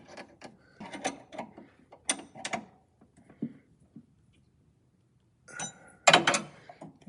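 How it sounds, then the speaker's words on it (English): An 11/16 wrench working a hose fitting near aircraft landing gear plumbing: scattered metallic clicks and ratcheting scrapes in uneven bursts, a pause, then a louder rasping clatter near the end. "11/16 wrench"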